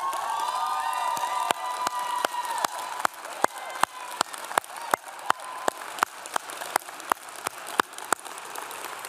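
A gala crowd at an alumni award ceremony applauds and cheers, a dense wash of clapping and voices that fades slightly, punctuated by regular sharp clicks throughout.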